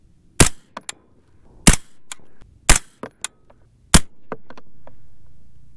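A rifle firing .223 Remington handloads with IMR4895 powder at a shooting range: several sharp, loud single shots spaced about a second apart, mixed with fainter distant cracks and clicks.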